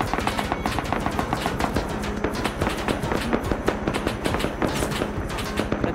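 Rapid gunfire in the survival game Rust, a loud, dense run of sharp cracking shots in quick succession, close and sustained.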